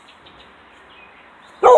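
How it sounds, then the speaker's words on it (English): A dog named Cherry lets out a single sharp, loud bark close by at the very end, after a near-silent stretch of faint rustling outdoors while damp wood is being notched. "You barking, Cherry?"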